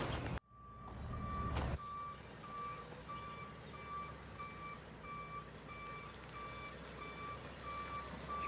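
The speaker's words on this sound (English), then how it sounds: "Truck's rolling in" Steady high-pitched backup beeps repeat at a regular rhythm over the low rumble of a truck engine as it reverses into a parking lot construction site, fairly close and continuous.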